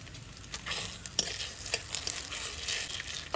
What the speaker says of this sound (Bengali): এবার দেবো তেজপাতা